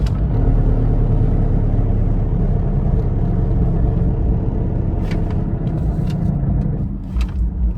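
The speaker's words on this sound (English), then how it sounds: "the whole car would shake pretty violently. Almost like a big heat shield was like shaking the whole car." Buick Regal coasting with a failing passenger CV axle bearing, a continuous loud low road rumble and drone inside the car that eases slightly near the end, with a few faint clicks.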